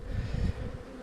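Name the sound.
honeybees buzzing at a hive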